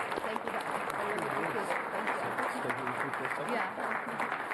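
An audience applauds steadily at a 2018 National Economic Development Week event, a dense, even round of clapping from a roomful of people that carries on without pause.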